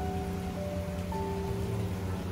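Steady rain falls outdoors on a wet spring day in Japan during wisteria season, a continuous, even, close hiss with a few faint steady tones running underneath and no voices.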